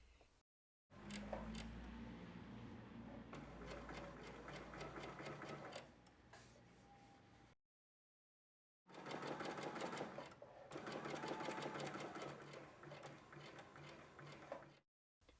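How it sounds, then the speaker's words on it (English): A sewing machine runs straight stitching at a slightly longer than standard stitch length, two sustained bursts of rapid, even needle rattling separated by a brief silent pause. "We are straight stitching with perhaps a slightly longer than standard stitch."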